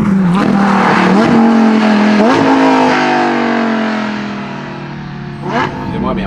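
A Lamborghini Huracan EVO engine roars loudly and close, its strong tone climbing as it accelerates, briefly dipping between revs, then easing off before a short burst of throttle near the end.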